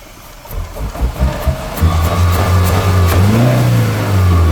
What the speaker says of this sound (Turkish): Bir sesini dinleyelim arabanın.